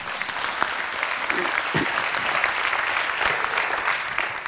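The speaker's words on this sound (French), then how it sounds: "Florence, on vous applaudit." A crowd at a conference claps steadily throughout, a dense patter of applause with a few louder individual claps.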